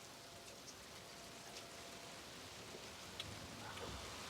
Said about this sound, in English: It's raining, but I'm dry.